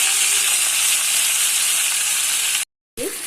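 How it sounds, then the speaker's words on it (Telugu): Liver pieces fry in a hot pan with a steady, loud, close sizzle and hiss that holds continuously, briefly cutting out before resuming. "ఫస్ట్ అయితే చూడండి బాగా ఫ్రై అవుతున్నాయి కదా"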